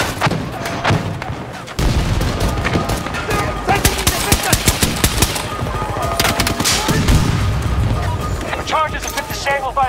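Rapid automatic gunfire and explosive thuds from the video game Battlefield 2042, loud and continuous throughout, with in-game voice callouts over the shooting.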